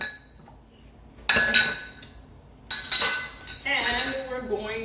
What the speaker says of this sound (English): Move all these dishes to the side.